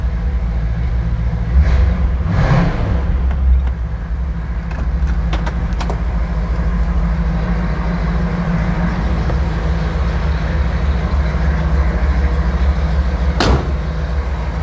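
A 1969 Ford Mustang Mach 1 with a 428 Cobra Jet V8 idles steadily and close by, a deep continuous rumble with a brief revving swell near the start.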